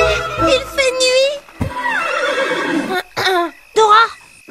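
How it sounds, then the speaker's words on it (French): A horse neighing in a cartoon setting, a loud whinny with a wavering, descending pitch, mixed with bursts of speech and other voices around it. "c'était quoi qui sonne? On dit un cheval"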